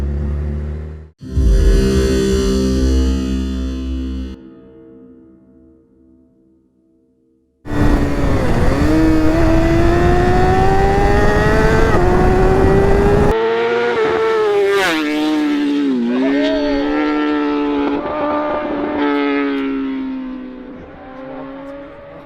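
A very loud BMW S1000RR sport motorcycle with a noisy exhaust, blipped in short sharp revs, then held in long screaming high-rev pulls that rise and fall, close up, with no talking.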